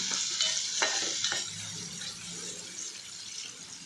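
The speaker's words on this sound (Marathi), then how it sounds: "इकडे टमॅटो मी तेलामध्ये परतवून घेत आहे." Tomato and onion sautéing in oil with a spoonful of salt, sizzling briefly under a few scraping stirs that fade into a softer fry.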